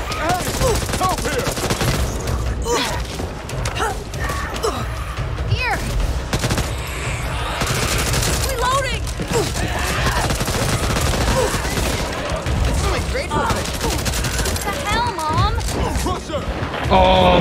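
Dense, continuous gunfire from the co-op zombie shooter Back 4 Blood, with rapid bursts and fusillades running throughout, mixed under frequent shouting voices and a busy game soundtrack.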